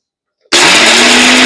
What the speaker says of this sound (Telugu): ఇప్పుడు ఇది మిక్సీ పట్టేసుకుందామండి.